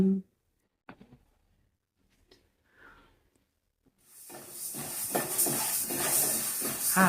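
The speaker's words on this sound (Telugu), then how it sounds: "ఇప్పుడు సద్దలు అయితే వేయించుకుంటున్నా" Pearl millet (sajjalu) roasting in a pan: a few faint clicks at first, then a steady, fairly loud sizzling hiss with crackles that holds to the end.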